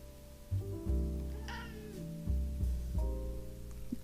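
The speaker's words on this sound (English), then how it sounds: "And that's my cat." A male house cat meows repeatedly, several drawn-out, close cries one after another in a quiet indoor room, with no talking over them.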